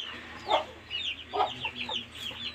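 A rooster clucks in short, throaty bursts, several spaced calls over a couple of seconds, fairly close, with a faint high chirping in the background.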